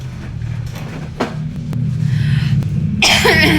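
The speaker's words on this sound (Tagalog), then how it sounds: "Ay, yung ubo ko talaga." A single sharp cough near the end, loud and close, over a steady low rumble of a moving vehicle.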